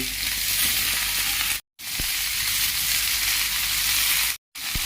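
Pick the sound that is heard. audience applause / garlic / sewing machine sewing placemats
garlic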